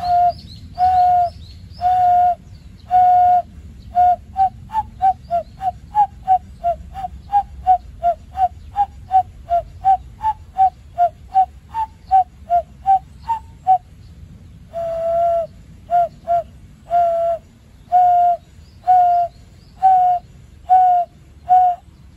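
A hand ocarina, played by blowing into cupped hands, gives soft breathy hoots in a long run of short repeated notes, some quick and bird-like, others longer and steadier, close and clear.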